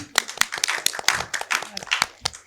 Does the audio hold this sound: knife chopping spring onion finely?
no